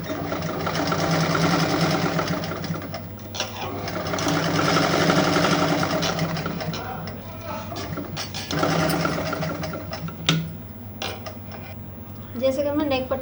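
A sewing machine stitches the collar neck of a kurti in steady motor-driven runs that pause and restart, running loud and close, with brief clicks and handling noises near the end.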